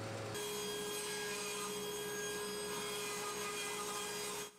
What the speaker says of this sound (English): I'm going to rip the 8/4 stock into strips